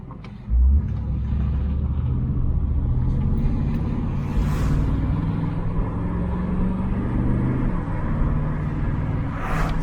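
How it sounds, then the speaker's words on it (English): A 1985 Pontiac Trans Am with the LG4 305 V8 accelerates at about quarter throttle, giving a steady, low, rumbling engine drone heard from inside the car. It is fairly loud and continuous, with a person speaking over it. "It's about a quarter throttle acceleration."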